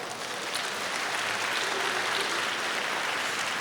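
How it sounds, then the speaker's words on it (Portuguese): A church congregation applauds after a preacher's call, a dense, even wash of clapping that holds steady throughout, moderately loud and heard from a distance with no voices over it. "Pode dar uma salva de palmas?"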